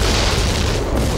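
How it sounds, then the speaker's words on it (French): Loud, sustained blast from mixed chemical products erupts into a dense roaring boom that fills the whole moment with broad rumbling noise, no voices. "Mais en mélangeant tous les produits, vous provoquez une explosion."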